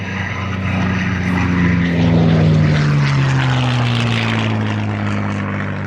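A P-51 Mustang propeller warplane flies past at the Duxford Battle of Britain air show, its engine drone loud and steady, with a slowly falling pitch as it passes nearby.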